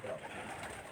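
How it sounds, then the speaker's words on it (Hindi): Mian Nazir Sahab breed pigeons on a rooftop coo softly and steadily, a low continuous murmur at moderate distance with no talk over it. "इनके पास कुछ मियाँ नज़ीर साहब वाले कबूतर थे"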